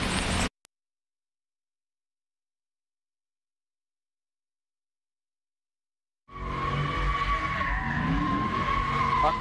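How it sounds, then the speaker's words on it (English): Tires skid and squeal as a car does donuts in the middle of a city street intersection at night, a brief burst at the start, then silence, then a sustained loud screech with engine roar. "A car doing donuts in the middle of Indianola Avenue and East Cook Road as a person hangs out the window."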